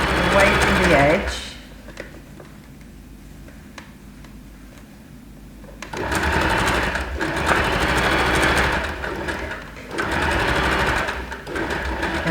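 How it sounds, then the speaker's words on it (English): A sewing machine twin-needle stitches across the top front of a stretchy bikini top, running in loud bursts with short pauses between them. "I'm twin needling across the top front of my bikini"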